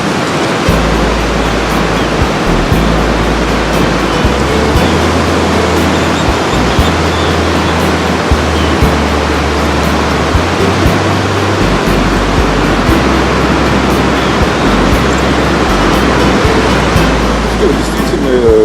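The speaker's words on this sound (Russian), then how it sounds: "Волны Атлантического океана." Atlantic Ocean surf at Playa Blanca on the southern tip of Lanzarote, a loud, steady broadband roar of breaking waves with deep low rumble, continuous and close throughout.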